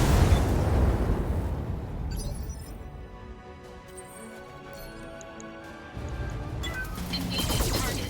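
Video game mech battle, with dense booming explosions and crackling blasts filling the whole stretch, loudest at the start and again near the end, with no talk over them.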